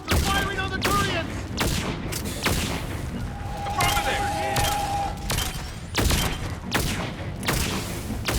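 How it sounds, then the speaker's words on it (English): Heavy weapons fire and booming impacts in the game Mass Effect 3 as a Reaper Harvester attacks Turian troops, repeated thuds and blasts through a noisy battle with a brief sustained tone, voices shouting over it. "Harvester firing on the Turians!"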